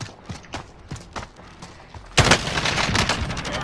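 Pistol gunfire in the video game Call of Duty Warzone: soft scattered thuds early, then a sudden loud burst of rapid dense shots and impacts sustained to the end, with no talking.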